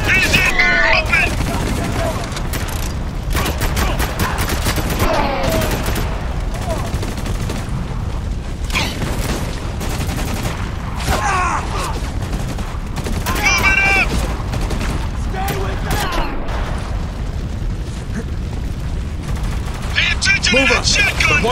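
Machine gun turret fire and heavy gunfire in the video game Spec Ops: The Line, a dense, continuous barrage of shots and booms with shouted voices over the battle throughout.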